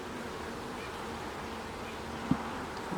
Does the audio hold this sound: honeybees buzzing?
yes